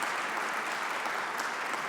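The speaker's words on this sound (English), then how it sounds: "Come on, I need a round of applause." An audience at a Senate briefing on Iran claps, a dense, even round of applause that holds steady at moderate level for the whole short stretch.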